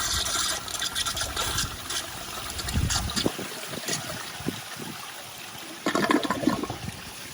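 Close water rushes and gurgles as a Kohler Kingston toilet flushes 1.6 gallons, swelling and fading in uneven surges over several seconds and then returning in a final burst, with no talking.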